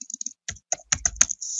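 Keys on a computer keyboard clack in quick uneven bursts, a few light taps, then sharper strokes with pauses between them, close and dry with no voices.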